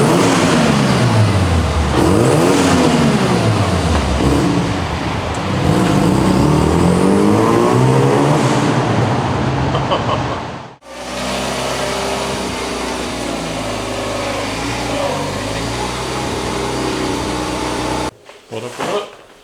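A Mazda FD RX-7 under restoration revs hard and loud up close, the rotary engine's pitch sweeping up and down repeatedly, then settling into a rough idle before a final brief blip.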